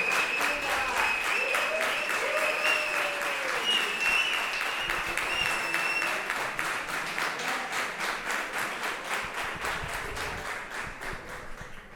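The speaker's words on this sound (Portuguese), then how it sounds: "eu queria uma salva de palmas" An audience bursts into sustained applause at a closing ceremony, dense clapping that holds strong for several seconds and then slowly thins and fades, with a few voices faintly underneath.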